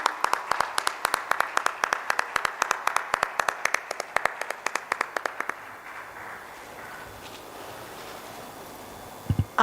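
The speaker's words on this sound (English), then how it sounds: "A huge round of applause, ladies and gentlemen." A conference audience applauds with dense, loud clapping for about five seconds, then it thins out and fades into quiet room noise, with a couple of sharp claps near the end.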